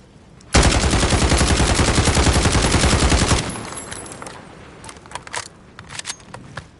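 An automatic rifle with a 30-round magazine in Call of Duty fires one loud, close, rapid continuous burst of about three seconds, then falls quiet apart from a few scattered clicks and faint handling sounds.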